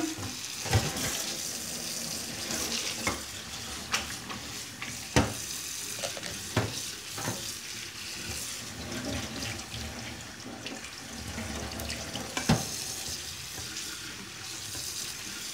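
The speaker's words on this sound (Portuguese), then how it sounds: "Ó, joga bastante água." Tap water splashes over okra being rinsed to remove the slime, a continuous running wash broken by sharp clinks and knocks of the vegetables and bowl, with no one speaking.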